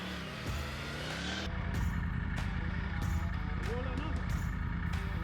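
Triumph Tiger 900 GT motorcycle engine running on the road, a steady low rumble that rises at the start and then holds under wind noise, with someone talking over it.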